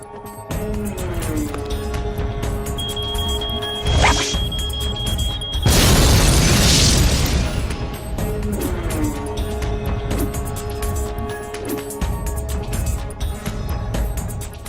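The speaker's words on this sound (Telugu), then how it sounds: "బాంబును తయారు చేసి టెస్ట్ చేశాం." A bomb test explosion in a film scene, a sudden loud burst and roaring crash rising out of tense background score with a sustained tone, then fading back under the music.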